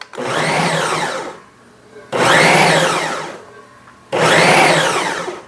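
A blender purees food in three loud bursts of roughly two seconds each, with a rising motor whine in every pulse and short quiet gaps between them.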